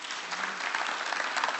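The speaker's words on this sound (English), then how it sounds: "I hope that clap means we have done pretty well" An audience applauding a panel at a women entrepreneurs' event, a dense, steady patter of clapping from many hands that fills the whole moment without a break.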